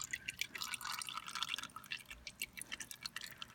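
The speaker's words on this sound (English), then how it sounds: "There's the oil filter draining out." Engine oil drips slowly from a draining car oil filter, a faint run of small, evenly spaced drops against a quiet background.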